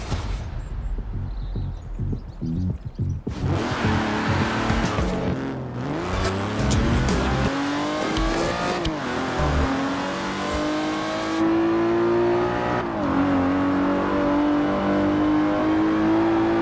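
An Aston Martin in Forza Horizon 4 driving hard, the engine revving up through rising gear pulls and dropping on shifts, loud and close throughout.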